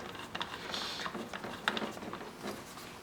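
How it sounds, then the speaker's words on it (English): A machine screw is driven down into a Ferrari 458 Spider interior panel, giving a quiet run of close mechanical clicks and ratcheting ticks with a few sharper taps. "Screw down the"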